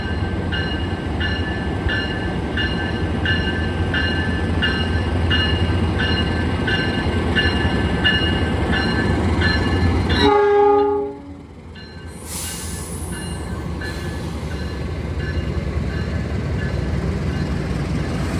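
The Pandalungan passenger train from Jakarta Gambir to Jember rumbles steadily with a rhythmic clatter, then a loud horn blares briefly before the running noise continues.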